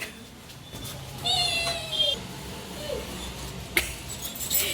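A house cat gives a clear, drawn-out meow close by, then a shorter cry, over a low room hum.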